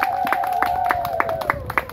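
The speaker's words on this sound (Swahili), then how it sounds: "Makofi mengi kwa mtumishi wa Bwana." A church congregation gives rhythmic applause for the minister, with steady claps repeating every fraction of a second beneath a sustained tone.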